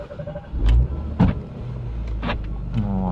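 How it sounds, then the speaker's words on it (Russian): A Rover 75 car engine is being started: starter motor bursts and cranking thumps, then a low engine rumble settles into idle, heard up close. "И можно заводить машину"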